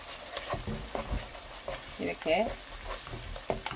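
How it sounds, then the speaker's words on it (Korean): Anchovies are stir-fried in a pan with minced garlic and sliced almonds, giving a soft steady sizzle with intermittent scraping stirs. Someone talks over it. "넣어서 이렇게 함께 볶습니다."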